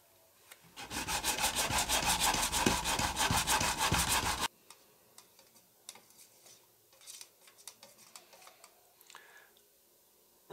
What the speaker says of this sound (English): So I'm just gonna sand off the entire edge so that I can give it a nice even coat everywhere.